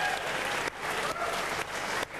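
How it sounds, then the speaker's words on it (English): A short burst of dense studio audience applause on a 2005 V8 Supercars quiz show, steady and close for about two seconds. "Round of applause for Skaife."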